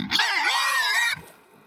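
A breeding sow in a farm pen gives one long, loud grunting squeal lasting about a second, close by, then a short fainter grunt as the sound fades.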